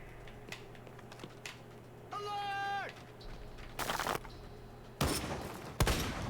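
Gunfire from the video game XIII, with several loud broadband bursts of shooting in the second half, a rising electronic tone earlier, and someone talking between the shots.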